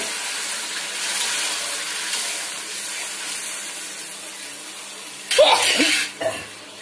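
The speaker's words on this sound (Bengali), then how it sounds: "এবার আমি জল ঢেলে দেবো।" Water is poured into a hot pan of simmering fish curry, a short loud splashing gush with a sizzling hiss that cuts through faint background hum, followed by a smaller second splash.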